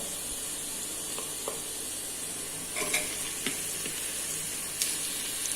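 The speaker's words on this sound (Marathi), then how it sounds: "व्यवस्थित सगळं परतून घेऊया।" Fresh washed mutton being sautéed in a pan with a spice base, a continuous soft hiss and sizzle with occasional crackles and stirring clicks, fairly quiet and without talk.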